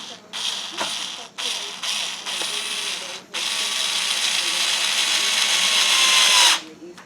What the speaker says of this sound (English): Get one of our screws down in here.